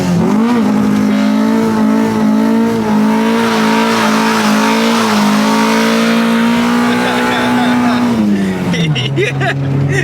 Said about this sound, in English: I think it'll definitely do a second gear burnout.